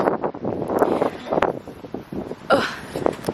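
Gusty wind blows outdoors on a chilly day, buffeting the microphone in uneven rushes with a sharp burst partway through.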